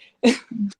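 A single sneeze bursts out sharply and close, followed by a short voiced exhale, loud and isolated in a quiet room.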